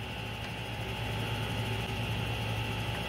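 A mini milling machine with a 1 hp servo motor upgrade and belt drive runs at its slowest spindle speed, a steady, faint mechanical hum with a low drone and a constant whine, alone and unchanging.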